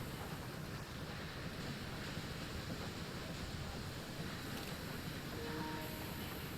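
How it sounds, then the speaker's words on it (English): A long train with massive hopper cars rumbling along the track in the game Railway Empire 2, a steady low roar that runs unbroken at moderate level. "That's a really cool looking train."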